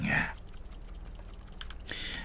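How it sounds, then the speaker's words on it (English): Rapid mouse clicking while playing the game Clickolding, a quick run of faint, close clicks between brief bursts of speech at the start and end. "Don't stop clicking."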